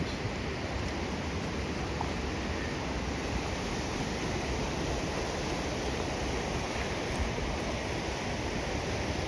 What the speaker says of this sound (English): so you can hear how fabulous Little Pigeon River sounds